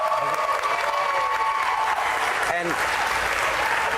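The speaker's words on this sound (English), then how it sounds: "You all can clap." An audience claps steadily and densely throughout, a sustained wash of applause with faint crowd murmur.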